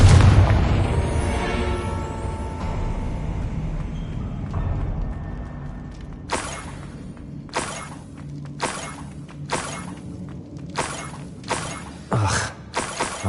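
A Confringo explosion spell in the video game Hogwarts Legacy bursts with a loud booming, shattering blast, followed by a rumbling tail and a series of sharp crackling impacts.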